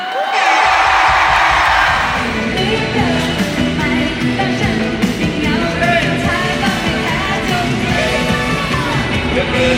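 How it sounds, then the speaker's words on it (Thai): A dense concert crowd at IMPACT Arena, Muang Thong Thani, screams, roars and cheers continuously, loud and close, with whoops rising above the sustained din. "ขอเสียงกรี๊ดหน่อยค่ะ"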